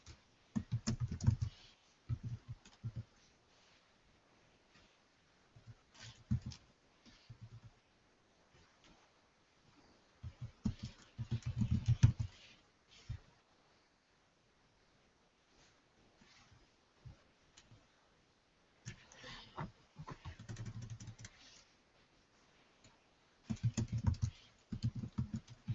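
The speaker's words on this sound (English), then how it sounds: "And then you want to type text here." Quiet bursts of typing on a computer keyboard, soft clicky keystrokes in short clusters separated by pauses, close by with no talk.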